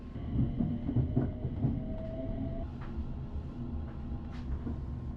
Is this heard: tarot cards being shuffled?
no